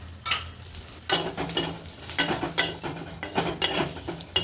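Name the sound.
leaves frying in mustard oil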